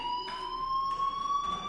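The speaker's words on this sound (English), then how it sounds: "Hey, do you hear that fire alarm?" A fire alarm rings in the video game Life is Strange, a steady electronic tone with pulsing bursts repeating about every half second, fairly clear and alone.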